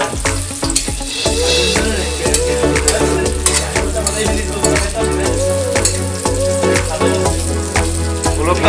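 Spicy oil sizzles and fries in a pan while cooking amra dal, a steady close hiss with stirring scrapes and clinks, loud throughout.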